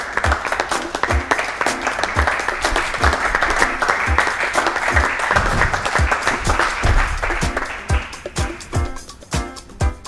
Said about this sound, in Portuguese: recebi com forte aplauso